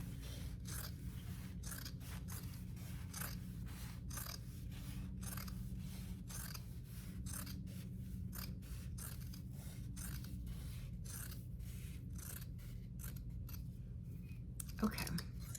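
Scissors cutting old denim jeans into strips for yarn, a close, regular series of crisp snips and fabric crunches at a steady rhythm, over a low room hum.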